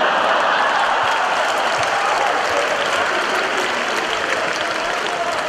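A packed audience at a crosstalk comedy performance claps and cheers in a broad, continuous wash of applause, loud and close throughout, easing off only slightly toward the end.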